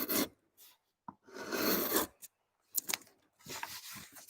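A carving knife makes a wedge cut across the wood grain, giving close rasping scrapes in short bursts broken by brief pauses, with no talk.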